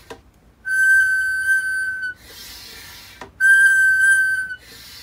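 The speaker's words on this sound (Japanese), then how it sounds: "先に何もつけずに空気を引くと、チェックバルブがすごく鳴くんですよね。" A check valve on a homemade PVC vacuum pump shrieks with a steady high-pitched whistle as air is drawn through it, two sustained bursts of about a second and a half each separated by a pause, close and loud.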